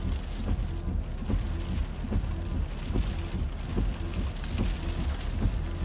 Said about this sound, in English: it looks like some heavier rain is starting to push up into